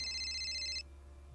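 HTC Hero mobile phone ringing indoors, a bright electronic ringtone with stacked high tones that plays steadily for under a second and then cuts off abruptly, leaving a quiet room hum.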